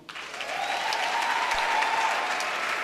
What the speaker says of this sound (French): Acclamez les mamans.